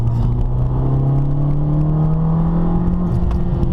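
A 2013 Fiat 500 Abarth engine drones steadily under way, its pitch rising slowly as the car accelerates, loud and close with a continuous rumbling whir and no talking.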